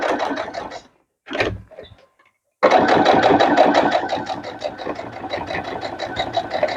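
A sewing machine top stitching a potholder near the edge, a short run, then a pause with brief handling noise, followed by a steady continuous stitching whir, close and fairly loud.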